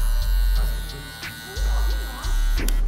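A LoProFX hair clipper fitted with a 1/16 guard blends a haircut with a steady electric buzz that dips briefly and resumes, close to the listener, with a voice talking over parts of it.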